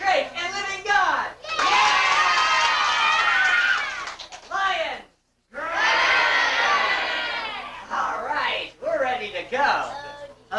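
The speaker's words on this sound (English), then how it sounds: "I want you to clap your hands above your head and say," Children at a 1992 summer reading program with a juggler in a library in Chesterville, Ohio clap their hands above their heads and shout together, loud bursts of crowd cheering broken by a brief silence.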